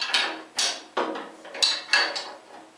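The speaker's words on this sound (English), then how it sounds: "Now I can go ahead and tighten it down using the same wrenches that I used to remove" Wrenches clinking and ratcheting as a nut is tightened down on a band saw in a workshop, a series of six short, close metallic clanks and scrapes spaced about half a second apart.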